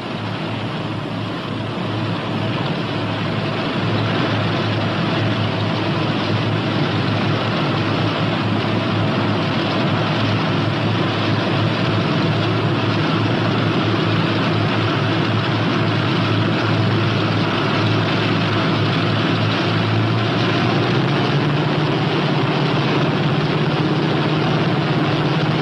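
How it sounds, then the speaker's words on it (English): Steady, loud engine drone with a deep low hum runs throughout, the pitch rising slightly near the end as a P-61 Black Widow taxis along the ground to the runway. "Okay to taxi to runway 29."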